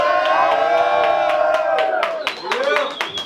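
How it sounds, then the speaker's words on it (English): A club crowd at a birthday bash claps and cheers for a performer, with scattered claps and whoops over a held musical tone before a voice starts speaking. "give a round of applause for Sav Killz one more time"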